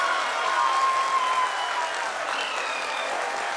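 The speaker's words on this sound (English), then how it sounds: "People are applauding." Steady applause and crowd noise rise from people celebrating the Chandrayaan-3 lander touching down on the Moon, a broad continuous wash of clapping at moderate distance.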